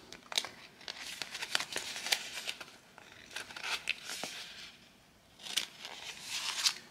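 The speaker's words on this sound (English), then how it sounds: "just trim it with a pair of scissors here" Repeated crisp snipping and crinkling as scissors cut through thin, stiff cured epoxy resin, in short bursts with brief pauses, close up.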